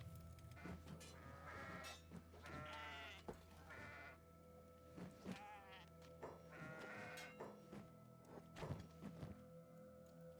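Goats in the video game Kenshi bleat repeatedly in wavering cries, several overlapping calls over a low steady hum, with a few dull thunks and steps between them.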